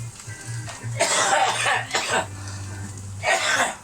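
Someone in a kitchen coughs in a few rough, breathy bursts with some throat clearing, close and moderately loud, over a low background hum.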